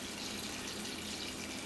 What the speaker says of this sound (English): put them back into the crock pot, add some more filtered water, probably about an inch to 2 inches above the beans